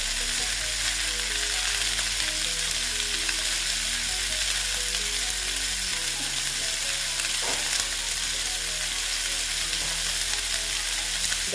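Katoa data (drumstick stems) fry in a pan with salt, turmeric and sugar while being stirred, making a steady, loud, unbroken sizzle with faint scraping throughout.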